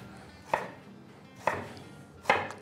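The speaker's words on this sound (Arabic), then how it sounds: "اقطع البصل بتاعي اعمل كده" A knife cuts through half an onion onto a cutting board in three spaced, crisp chops, close and otherwise quiet.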